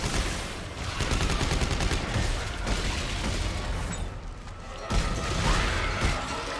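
Dense, continuous enemy gunfire from the video game Dead Space 3, rapid repeated shots and clattering bursts filling the whole stretch at steady loudness, with a brief surge of heavier blasts near the end and no talk over it.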